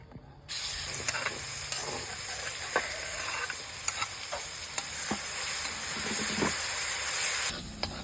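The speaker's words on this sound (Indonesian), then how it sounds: "ngene iki bumbune tak gongso" Spice paste for a gurami fish dish sautéing in a hot pan, a loud steady hissing sizzle that bursts in abruptly, with scattered clicks of a utensil stirring, then cuts down near the end.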